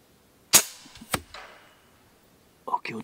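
Two sharp shots from a Snowpeak M25 .22 calibre air rifle with a Huma air regulator, fired at a 100-metre range, spaced about half a second apart, followed by faint rustling and brief talk at the end.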